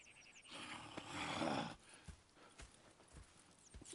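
Horse hooves clop on the ground in an uneven rhythm in the video game Red Dead Redemption 2, with a brief swell of rustling, snorting noise early on, fairly quiet overall.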